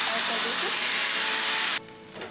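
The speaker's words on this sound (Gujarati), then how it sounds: "મીઠા સોડાની ઉપર ગરમ ગરમ તેલ એડ કરશું" A loud, steady hiss of hot oil poured over baking soda on fenugreek handvo batter for almost two seconds, then it cuts off abruptly, leaving quiet.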